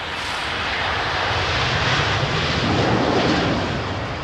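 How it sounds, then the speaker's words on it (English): An old Boeing 737 Next Generation jet airliner arriving from Schiphol at a wintry London Heathrow, a loud, steady engine roar that swells slightly and holds close throughout. "lovely old 737. In from Schiphol."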